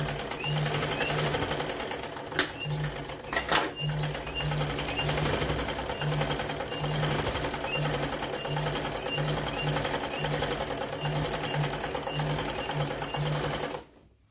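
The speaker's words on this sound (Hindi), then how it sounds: "आसन पे हम दो सिलाई लगाएंगे।" A sewing machine stitches palazzo pants, humming steadily with a fast needle rhythm that pulses in short runs and brief pauses, close and continuous until it stops abruptly at the end; no speech.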